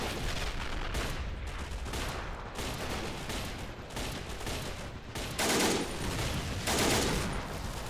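In a video game battle in a Finnish winter town, a Soviet Maxim machine gun fires in rapid, sustained bursts while mortar blasts thump in. The dense, loud barrage continues without pause, with heavier blasts swelling near the end.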